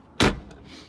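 Rear door of an off-road vehicle with a stubby rear bumper and spare tire delete, fitted with a 3.5-inch lift, opens with one loud close thud, followed by a faint metallic click.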